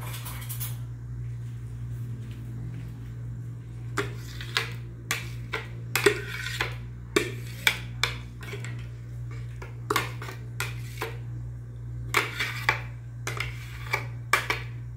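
Coconut residue being scraped out with a spoon, producing a series of short sharp scrapes and clicks in uneven bursts close by, over a constant low mechanical hum, with no voices.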